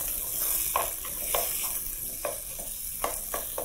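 Mutton pieces sizzling as they brown in a pot for a stew, a soft continuous frying hiss with a few gentle stirring scrapes and clinks, fairly faint and with no voices.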